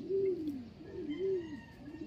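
A pigeon coos nearby, soft low rolling calls repeated in a slow, even rhythm, with quiet background noise.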